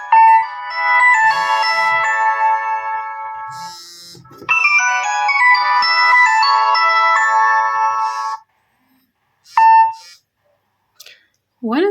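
A Citrus L05 keypad phone plays its ringtone for an incoming call, a loud, bright electronic melody of beeping tones that repeats twice, followed by short beeps near the end.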